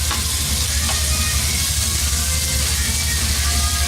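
Klik luncheon meat and tomatoes fry in a pan with a constant loud, close sizzle and faint scraping from stirring, steady throughout.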